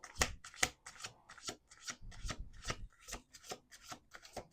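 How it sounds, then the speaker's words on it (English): Tarot cards being shuffled in quick, riffling bursts, a rapid run of crisp flutters and soft slaps close by, with no voices. "Let's do 2 more shuffles."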